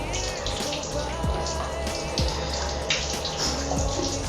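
Running water poured steadily over a cat's head to rinse it during a bath, a loud continuous splashing stream with a few brief thumps and knocks underneath.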